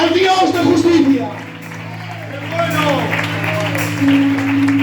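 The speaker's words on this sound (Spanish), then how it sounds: "Un aplauso para Dios" A church congregation applauds for God after a sermon, with a broad wash of clapping running under continuous voices and shouting, fairly loud and close.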